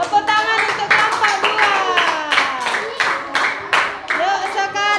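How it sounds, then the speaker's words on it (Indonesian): Clapping from a classroom of elementary schoolchildren applauding a student group, close and uneven over roughly five seconds, with children's voices chattering through it. "Tepuk tangan untuk kelompok"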